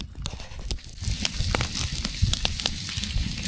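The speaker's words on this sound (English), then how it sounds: "You can hear the sizzle." Foil packets of potatoes and onions sizzle and crackle over a campfire in the rain, a steady close hiss with sharp pops scattered throughout.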